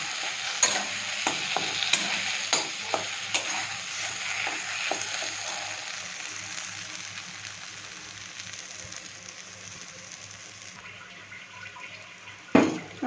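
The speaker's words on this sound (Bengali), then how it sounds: "শুকনো লঙ্কা দিয়ে দেবেন তেলের মধ্যে" Dry red chillies sizzle and fry in oil, with a steady hiss and repeated stirring scrapes early on, the frying settling into a quieter sizzle before a sharp clatter near the end.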